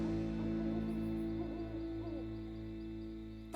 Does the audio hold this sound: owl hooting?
yes